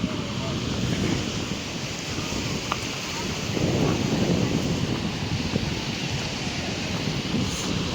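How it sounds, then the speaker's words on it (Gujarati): Cool open-air wind buffets the microphone on the sea walkway at Haji Ali Dargah in Mumbai, with a continuous broadband rush of waves and gusts that swells slightly in the middle, no clear speech. "થોડુંક ઠંડો પવન આવે છે"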